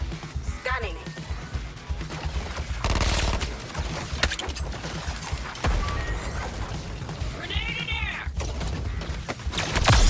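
Bursts of automatic gunfire and crashing impacts from an online Arkham-themed shooter game, loud clattering volleys over background game sounds, with a player's voice speaking throughout.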